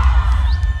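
Party crowd in Chicago shouting and cheering, a dense loud wash of voices with whoops and a rising shout, continuous over a short burst.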